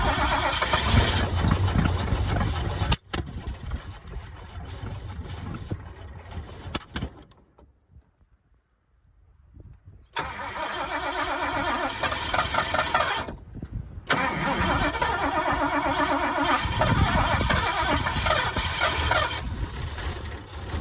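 An old International truck engine cranks and fires, running roughly and loudly, cuts out into silence, then restarts and settles into a steady rattling run with another brief dropout.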